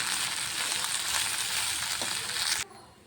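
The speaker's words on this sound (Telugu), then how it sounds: "ఇది మొత్తం మిక్స్ చేసుకుందాం" Brinjal fried rice with a couple of spoons of masala powder is stirred in a hot pan, giving a steady close sizzle with scraping and mixing noises that stops abruptly near the end.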